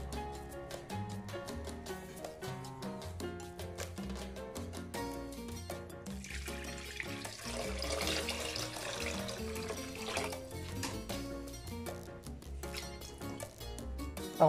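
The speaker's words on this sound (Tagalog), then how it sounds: "Dahil kulang siya, dadagdagan natin ng" More water runs into a pot of beef pares in a steady, continuous pouring stream that swells in the middle, soft and close beneath background music.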